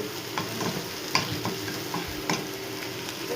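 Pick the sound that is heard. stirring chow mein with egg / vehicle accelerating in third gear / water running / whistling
stirring chow mein with egg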